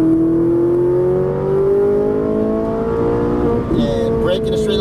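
A Ferrari 458 Italia accelerates out of a curve on a Las Vegas drive. The engine note climbs steadily, loud and close, with a voice faintly underneath.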